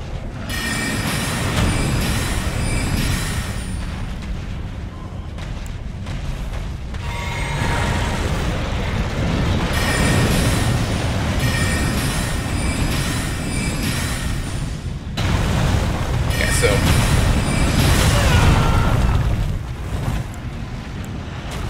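A magma wyrm's fire breath attack in Elden Ring, a sustained loud roaring rumble with crackling that keeps going for the full stretch and swells twice, with no talk over it.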